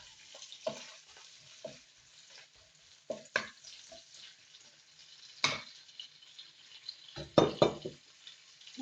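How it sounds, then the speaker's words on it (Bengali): Chhena, fresh cheese, stirred in a pan, giving faint scraping and light sizzling with several sharper clinks and scrapes of a utensil against the pan, spaced irregularly in an otherwise quiet kitchen. "সামান্য নেড়ে নিচ্ছি ছানাটা।"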